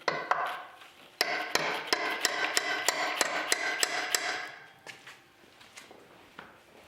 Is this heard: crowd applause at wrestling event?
no